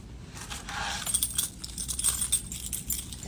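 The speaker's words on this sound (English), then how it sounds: "once I find my car keys," Car keys jangle close by in a string of light, bright metallic clinks and rattles, irregular and quick over a few seconds, fairly soft against a low background hum.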